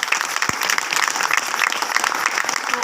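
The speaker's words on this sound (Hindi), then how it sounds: "तो जोरदार ताली।" Loud, dense clapping from a satsang audience at a Shivratri flag program, continuous and even with a brief thump near the start.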